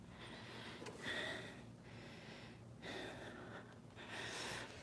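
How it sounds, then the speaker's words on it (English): Heavy, ragged breaths from someone who has just been working under a Toyota RAV4 during an oil and filter change: three or four loud puffs and gasps, close and alone. "I'm breathing hard"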